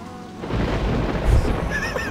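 Video game thunderstorm with lightning: a deep, close rumbling thunder roll that swells and peaks partway through, with rain-like noise behind.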